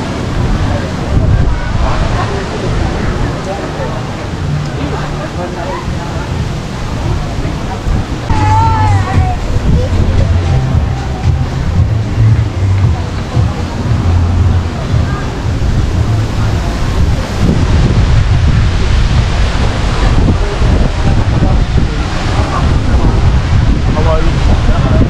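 Surf washing onto a beach on Boracay island, a steady rushing roar mixed with heavy wind buffeting against the microphone, while people talk nearby.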